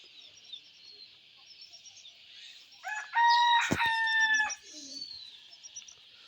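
A rooster crows once, loud and close, over faint background chirping and soft clucking from nearby chickens.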